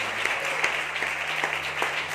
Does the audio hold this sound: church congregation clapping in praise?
yes